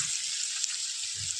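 Garlic and chili paste sizzles steadily in hot oil after asafoetida has gone in, a close, even crackling hiss that holds at one level throughout with no voices.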